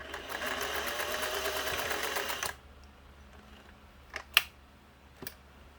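Singer 401a sewing machine stitching, a close, fast, steady mechanical whirring and clatter for about two and a half seconds that then stops, followed by quieter background and a few faint clicks.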